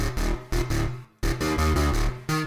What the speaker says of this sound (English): So for the verse, we're going to use the dub bass we made earlier on,